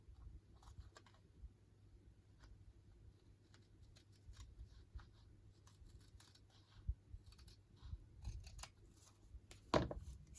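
Paper trimmed with scissors during a crafting session, giving faint, close snips and soft rustles over a quiet room hum, with a few sharper cuts near the end and no talking.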